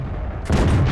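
A Tiger 1 tank cannon firing in World of Tanks gives one sudden heavy boom that cuts in after a low engine rumble and stays loud to the end.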